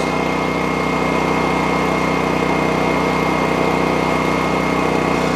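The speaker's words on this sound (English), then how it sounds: "This is how it runs all the time at full throttle." A Westinghouse WGEN9500DF dual fuel generator runs at full throttle about two feet away, a loud, steady engine drone holding constant without any change in speed.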